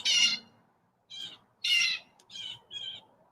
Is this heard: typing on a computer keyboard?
no